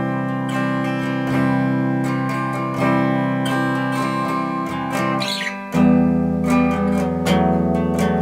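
An electric guitar plays a descending riff, sustained chords stepping down with a clear change near the end. It is loud and close, and no voice is heard.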